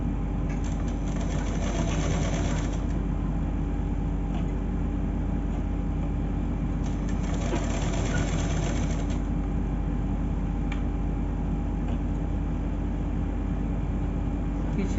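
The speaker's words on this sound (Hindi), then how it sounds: "पीछे वाले पार्ट पे कर रही हूँ अभी मैं सिलाई" A sewing machine whirs continuously while stitching the back panel of a bordered blouse with piping. The hum is steady and close, with two stretches of louder, brighter running.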